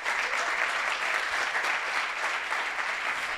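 An audience applauds to welcome speakers at a pitch night, a dense, even burst of clapping from a crowd that holds steady throughout.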